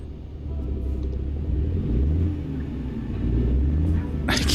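Steady low engine rumble of a truck driving down a road in American Truck Simulator, a continuous drone that swells slightly midway, with a brief bright hiss near the end.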